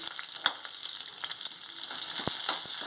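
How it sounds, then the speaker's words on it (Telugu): Onions frying in oil in a pan over tempered fenugreek, cumin and mustard seeds, a soft continuous sizzle with scattered pops and clicks that swells slightly toward the end. "కొంచెం దోరగా వేగాలి"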